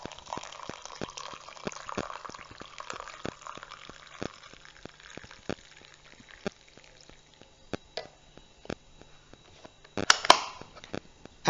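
Hot water pours into a cup for tea, with a gentle liquid trickle in the opening seconds, quiet clicks throughout, and a brief louder splash near the end.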